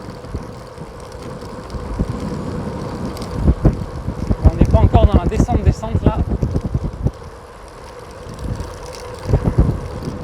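Wind gusts buffet the microphone on a bicycle ride through the Aveyron countryside, a steady low rumble under close, continuous French conversation between riders.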